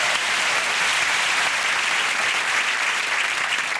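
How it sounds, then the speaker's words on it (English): A television studio audience gives a round of applause, a loud, dense, sustained roar of clapping from many hands that fills the whole stretch with no talking over it. "very rarely would a clip deserve a round of applause"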